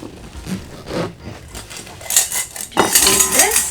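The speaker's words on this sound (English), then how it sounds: "I'm gonna cut the excess." Plastic wrap around an empanada is cut and handled, giving soft crinkles and snips followed by a brighter clinking, scraping burst near the end, close and fairly loud with no talking.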